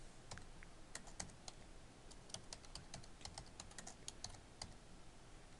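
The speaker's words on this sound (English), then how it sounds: "I'm going to type in 2 Hamilton Street." An address is typed on a computer keyboard as a quiet, uneven patter of key clicks, a few quick runs of taps over a faint steady hiss, with no voices.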